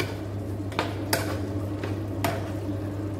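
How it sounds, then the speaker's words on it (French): Tortellini being stirred in sauce in a pan: a spoon knocks sharply against the metal four times, spaced irregularly, over a steady low kitchen hum. "Je vais mélanger un peu."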